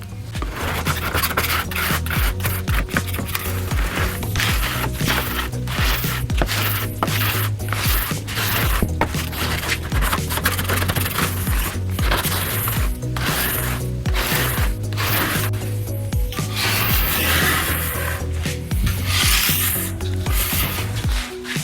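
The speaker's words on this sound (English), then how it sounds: "So from here, I'll scrape off as much as I can and see what I have" Wet chemical stripper scraped off an old oak table top, a continuous loud rasping scrape with repeated strokes and gritty mechanical clicks, close and steady throughout with no voices.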